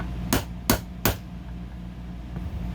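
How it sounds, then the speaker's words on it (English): A hammer strikes a 1/8 inch roll pin punch three times in quick succession, driving out the sear housing pin of an HK VP9 pistol resting on a punch block; the sharp metallic blows are close and loud. "using our punch block again, and our 1/8 inch punch, roll pin punch"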